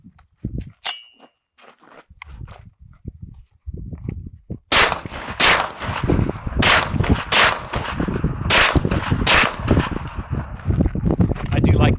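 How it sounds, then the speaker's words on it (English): Ruger PC9 pistol-caliber carbine firing a string of about eight sharp shots in an uneven rhythm, preceded by faint metallic clinks and handling sounds, with some background murmur between shots. "And now the soft shooting, vintage looking, but completely modern Ruger PC9 carbine."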